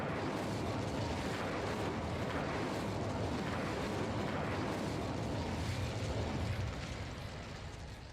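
A fire spell cast in Hogwarts Legacy roars as a loud, dense, continuous blast that holds steady for most of its length and eases off slightly at the very end.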